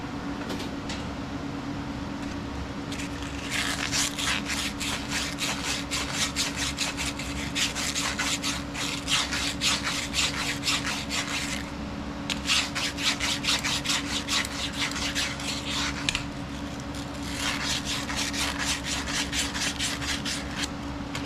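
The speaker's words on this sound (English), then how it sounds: "I'm going to clean that up with a sandpaper real quick." A metal fuel line on a 1969 Ford F250 being sanded with sandpaper: a steady, close scratchy rasp running in long bursts with brief pauses between strokes, alone without talk.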